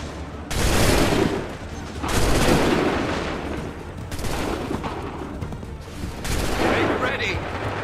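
Musket volleys in the Assassin's Creed 3 video game, four heavy rolling bursts of massed gunfire spaced about two seconds apart, loud and booming, each trailing off into echo.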